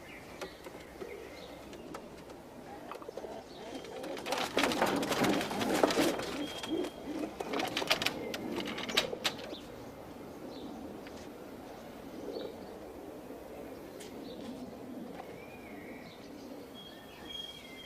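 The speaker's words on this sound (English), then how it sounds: "She's a pouter, and that's how you display her plumage." A pouter pigeon coos softly in low, murmuring calls, with a few faint chirps and a busier patch of scuffling noise midway through.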